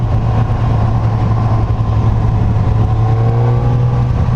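A 2019 Suzuki GSX-S 1000F motorcycle engine pulls under acceleration on the road, a loud continuous low drone with wind rush and no talk.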